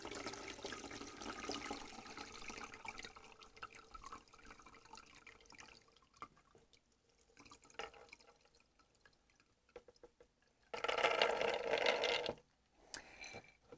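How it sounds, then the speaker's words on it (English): Excess water draining from soaked pea microgreen seeds through a strainer, a soft trickling and dripping that fades, then a brief louder splashing pour near the end, with no talk. "find yourself a strainer, any kind will work, and just get all of that excess water out of there"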